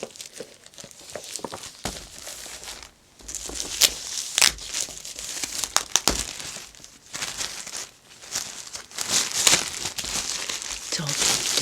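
Pages of a 1968 LIFE magazine, its binding taped up, are handled and turned up close, giving soft crinkling paper rustles and flutters in uneven bursts with brief pauses.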